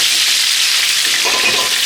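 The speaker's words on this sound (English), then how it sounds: "as you can hear and see, all that sizzling is just what we want" Steady, loud sizzling of roast potatoes going into very hot oil, a dense continuous crackle with no voices.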